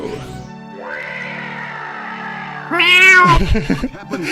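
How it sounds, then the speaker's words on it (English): A cat yowl sound effect from the video game The Orion Conspiracy: a drawn-out, rising feline wail that turns loud and harsh near the end over a tonal game background, with no talk. "Sounds like someone stepping on a cat's tail."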